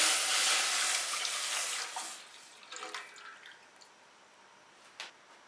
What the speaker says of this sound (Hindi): पैन में डालेंगे 3 कप दूध